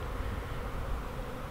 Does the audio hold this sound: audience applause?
no